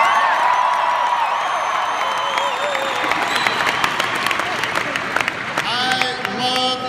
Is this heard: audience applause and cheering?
yes